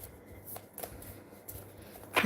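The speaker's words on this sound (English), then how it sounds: "I feel like this needs another shuffle." A deck of tarot cards is shuffled quietly in several soft, papery bursts, ending in a louder, crisper riffle.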